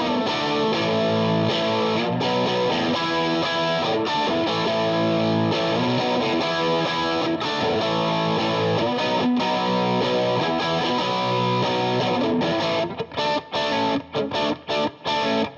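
Fender 60s Stratocaster on its bridge pickup, driven through a Mesa Mark IV amp in the 2C mode, plays a dense, saturated distorted riff that continues steadily, then breaks into choppy stabs near the end.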